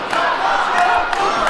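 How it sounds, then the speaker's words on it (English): A wrestling arena crowd at an old-school match roars and cheers loudly throughout, a dense wall of voices with a few sharper shouts standing out. "the crowd cheering him on tonight"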